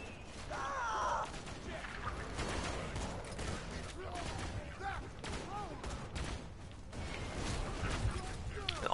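Autocannon fire in the video game Borderlands 2 clatters in a dense, continuous burst over a busy battle mix, with voices and groans mixed in throughout.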